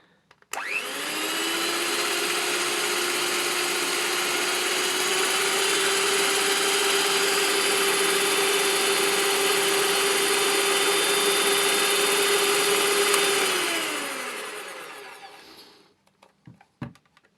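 A VITEK VT-1405 200 W hand mixer runs with its attachments fitted, giving a steady, close electric motor whine that holds for about thirteen seconds before spinning down, with no talking.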